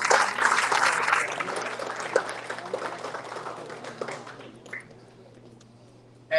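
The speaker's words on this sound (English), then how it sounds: "a big applause for Racer Pro" Audience applause at a Fuchs lubricants product launch event in the Philippines, a dense sustained clapping from a crowd that gradually thins and fades out over several seconds, with no talking.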